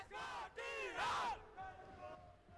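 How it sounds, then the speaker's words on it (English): A crowd of fans cheers and yells in bursts at a Valorant esports playoff match in the NODWIN Valorant Challengers South Asia series. The roar is loud and close, with rising whoops and a calmer murmur trailing off. "If you've got fans cheering for you like that."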